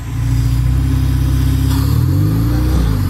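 Loud, close idle of a K24-swapped Honda Civic wagon with a sticking idle air control valve, a steady low engine rumble whose pitch wavers and shifts partway through.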